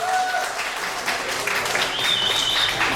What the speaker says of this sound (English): Give a round of applause to both of them